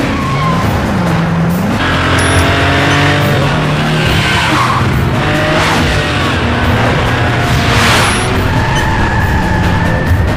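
Mercedes-Benz C-Class Coupe cars on a test run roar loudly and continuously, with engines revving up and down and tires squealing and skidding in several long sweeps close by.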